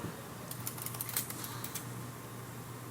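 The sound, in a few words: old Model M keyboard typing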